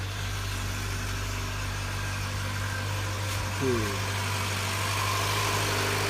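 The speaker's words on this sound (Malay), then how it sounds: "Bagi enjin running sampai air ideal. Okay, sementara nak tunggu enjin panas" A Mitsubishi Lancer GT car engine idles steadily while warming up, with a constant low hum and vibration; a person briefly speaks over it.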